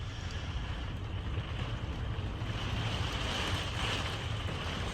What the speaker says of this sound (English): it is, for the past 2 hours, been blowing so hard that the RV is just shaking and rocking